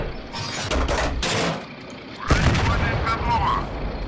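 Tank gun fire in the game Steel Fury from a BT-5 Mod. 39, loud sharp cannon reports and a clattering burst followed by a heavy close blast and rumbling aftermath, with muffled talk in the background.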